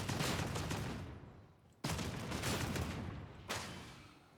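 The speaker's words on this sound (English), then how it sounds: "And the bolt gun, you basically just mag dump into anything you want dead." A bolt gun in Warhammer 40K: Darktide fires in close, loud, rapid streams of heavy shots, three sustained bursts separated by brief pauses, with no talk over them.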